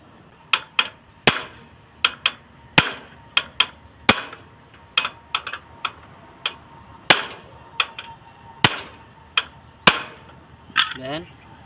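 Sharp hammer blows strike a loose part to tighten it, about two dozen loud separate cracks at an uneven pace with short gaps, close by, with a voice speaking between some strikes.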